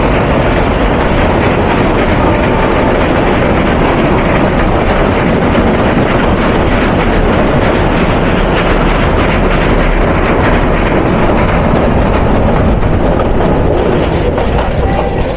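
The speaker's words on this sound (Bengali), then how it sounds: "আর এই ব্রিজে আমাদের সাথে ডাবল লাইনে ক্রসিং হবে ট্রেন নাম্বার 702 ঢাকা থেকে চট্টগ্রাম অভিমুখী ননস্টপ সুবর্ণ এক্সপ্রেস" A Kishoreganj Express train rolls over a double-line bridge in Bangladesh while the nonstop Subarna Express, train 702 from Dhaka to Chittagong, passes alongside. It makes a loud, close, continuous rumble and rattle of wheels with no break.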